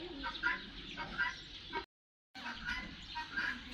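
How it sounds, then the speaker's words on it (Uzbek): Polish chickens at a small zoo in To'raqo'rg'on, Uzbekistan, cluck in repeated close bursts, with a short break of silence partway through and no talk. "Polsha tovuqlari deb qo'ydi"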